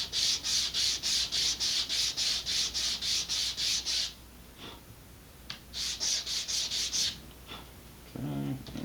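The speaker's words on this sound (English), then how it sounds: "I'm gonna sand them down just a little bit to get rid of those burrs" Model rocket parts from an Estes BOSS kit get sanded to remove burrs in quick rhythmic back-and-forth rubbing strokes, close and crisp, with a pause in the middle, then a second burst of strokes, and a brief handling noise at the end.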